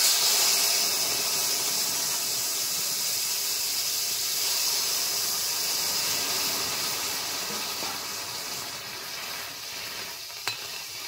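A tempering of fried onion and garlic hits lentil dal cooked with pumpkin flowers, giving a loud, close, steady hissing sizzle that slowly fades, with a faint clink near the end.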